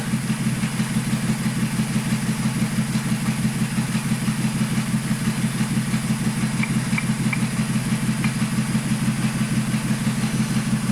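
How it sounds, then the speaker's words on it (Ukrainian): A VW Polo 1.2 AZQ three-cylinder petrol engine idles after a new timing belt kit, a steady low rhythmic thrum with a slight uneven pulse, close and continuous, no talking. "І двигун явно почав працювати рівно."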